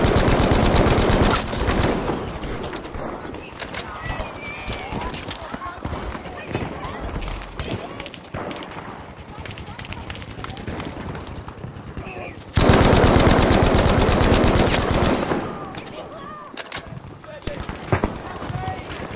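Sustained bursts of British light machine gun fire, Lewis Gun, Vickers K and Bren, in Battlefield 1 and Battlefield V gameplay, loud and rapid with brief pauses, under intermittent game voices and battle noise.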